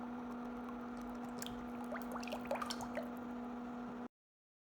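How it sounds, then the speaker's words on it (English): Cooking oil poured into a heated pan while preparing a shrimp-shell spice: a low steady hum underlies a run of small dripping, trickling liquid sounds that cluster in the middle. The clip ends abruptly in silence. "Pour in some cooking oil and bring it to a boil."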